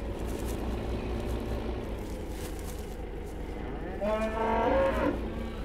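Cattle in the farming video game Farming Simulator 15 moo, with a single drawn-out low moo rising near the end over a steady background hum of game ambience and engine drone.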